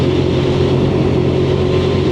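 A Lexmoto LXS motorcycle engine labours up a hill in sixth gear, holding a steady, droning hum with wind rush, continuous and close throughout.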